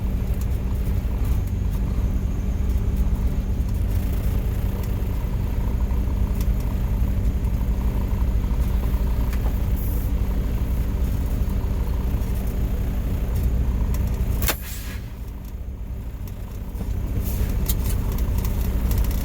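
Vehicle engine idling at a QuikTrip with a noisy power steering pump, a loud, steady rumble and drone that dips briefly near the end before returning, no talking.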